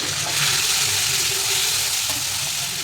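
Water added to chopped cluster beans frying with turmeric in a pan sets off a loud, steady hiss and sizzle that fills the whole moment up close, with no voices.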